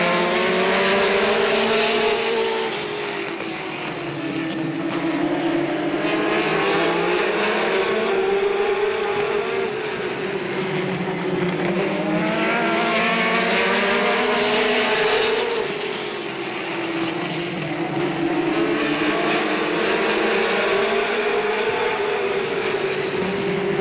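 Late model stock cars roaring off at the start of a race at Slinger Speedway in 1985, a dense, loud engine drone rising and falling in pitch as the pack laps the oval, continuous with no talking.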